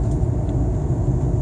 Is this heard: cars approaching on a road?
yes